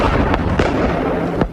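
Fireworks going off in the film A Quiet Place, three sharp bursts spaced apart over a dense, crackling, rumbling background, loud and close.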